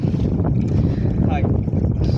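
Strong sea wind buffets a fishing boat out at sea, a loud continuous roar and rumble dominating throughout, with a voice faintly under it.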